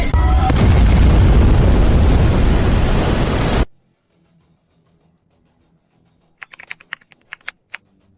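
A sci-fi high energy laser main cannon fires in one loud, sustained roaring blast lasting several seconds, then cuts off abruptly into near silence broken by a short burst of faint crackling clicks.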